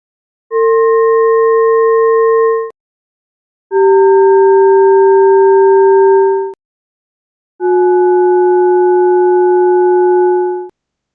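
Rock deterioration data under salt cycles, turned into sound as three sustained sine-tone chords. Each chord lasts two to three seconds with short silences between, and each one sits slightly lower in pitch than the last; the tones are loud, clean and steady.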